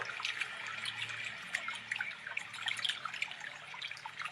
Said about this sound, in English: Just focus on this beautiful sound of water.